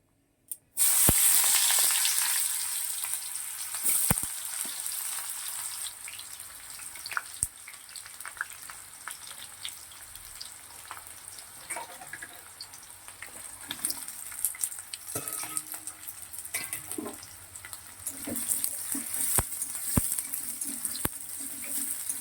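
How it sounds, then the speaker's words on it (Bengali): Soybeans sizzle and fry in a pan over a low gas flame, a steady loud hiss that runs the whole time with scattered pops and a few sharp clicks, and nobody speaks. "এবার আস্তে আস্তে রান্নাটা হবে। দেখো, এটাতে রান্না করবো সোয়াবিনটা।"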